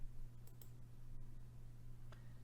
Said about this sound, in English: I'm just going to roll the dice and hope for a 7.